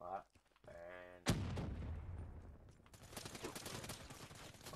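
Rapid gunfire in the Black Ops 3 multiplayer video game erupts after a brief voice and tone, loud bursts of shots rattling on continuously under a talking player.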